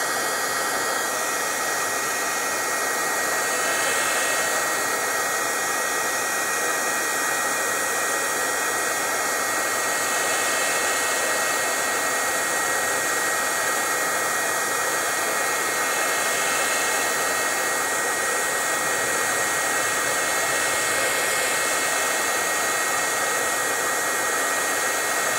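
Heat gun blowing hot air onto an upholstery fabric sample, a continuous loud hissing rush that holds steady throughout with no pauses or talk.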